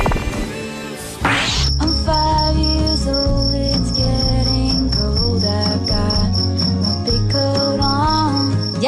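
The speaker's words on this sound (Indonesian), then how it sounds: "Jangkrik merupakan serangga yang mampu menghasilkan suara lewat kaki-kakinya." Shrill, continuous cricket chirping with a steady pulsing trill, loud and close, sustained throughout after a brief quieter opening.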